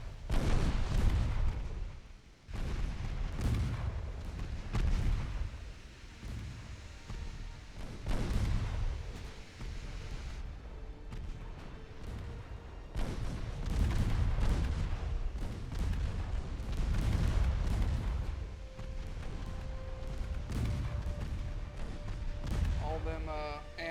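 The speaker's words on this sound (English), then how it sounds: "Ammo detonations, torpedo detonations, they really put way too many torps on these ships." Ammo and torpedo detonations on warships in Ultimate Admiral Dreadnoughts, a dense run of heavy booming blasts and gunfire-like thuds, loud and repeated every second or two, with someone talking over them.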